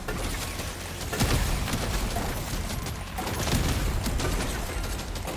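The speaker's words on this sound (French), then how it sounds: "J'ai le flingue qui fait des dégâts, mais sale en plus." Rapid gunfire from a weapon in the video game Deep Rock Survivor, dense crackling bursts layered with mechanical clatter and dull booms, loud and continuous with swells around the middle and end.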